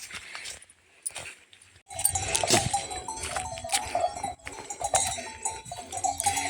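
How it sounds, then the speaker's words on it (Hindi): Goats and oxen grazing in a sunny forest, with clinking bells, scattered hoof clops and faint animal movement close by, against a steady outdoor background that fades out briefly before returning. "जंगल में बैल बकरी सब चरते रहता है, यहाँ पर चर रहे हैं"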